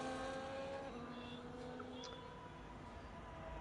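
A Sauber race car in a racing video game at Singapore, its engine a steady close drone with tonal whine holding throughout, faint tire noise mixed in.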